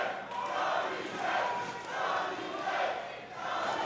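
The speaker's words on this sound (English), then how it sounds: "The crowd are chanting Tommy Test" Wrestling crowd chanting a wrestler's name in rhythmic waves during a televised match, a steady dense roar of voices rising and falling about every second and a half, with no commentary over it.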